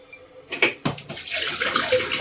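Running tap water splashes onto a glass being washed, starting with a few sharp clinks and splashes, then settling into a steady close gush of flowing water; no talking.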